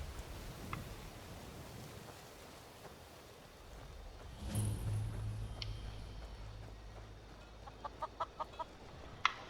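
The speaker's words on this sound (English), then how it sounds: "Oh, chicken." A farm chicken in the Skyrim video game clucks faintly amid quiet ambient outdoor game sound, with a few short sharp bursts toward the end.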